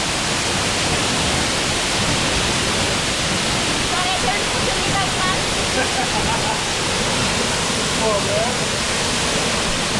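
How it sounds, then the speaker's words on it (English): Dark View Falls on St Vincent roars as a loud, continuous broadband rush of falling water, close and unbroken throughout, with faint voices barely showing beneath it. "Look up the waterfall."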